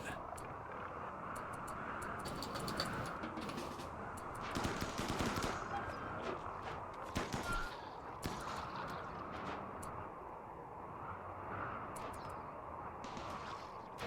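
A turret in a video game firing, heard as rapid bursts of gunfire over a steady background drone, with louder volleys in the middle and no clear speech.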